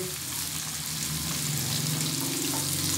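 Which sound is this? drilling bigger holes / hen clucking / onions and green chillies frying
onions and green chillies frying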